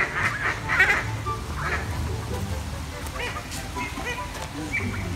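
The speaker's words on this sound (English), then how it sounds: "Those are the ducks." Ducks quack at a pond in a series of overlapping honking calls, moderately near, over a busy outdoor background with some faint voices.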